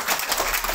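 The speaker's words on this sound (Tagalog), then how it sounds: "Alam niyo mga tao, palakpakan." An audience claps at a distributors' orientation seminar, a dense, steady wash of applause that stays fairly loud and even for a brief moment, with no voice on top.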